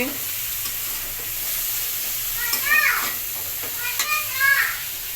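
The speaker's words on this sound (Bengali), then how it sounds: "এই কষানো মশলাতে আলুগুলো ছেড়ে দিচ্ছি দু একটা নাড়া দিয়েছি" Potatoes fry in a cooked spice masala, giving a steady sizzle with a few stirring scrapes, while voices are heard briefly in the background.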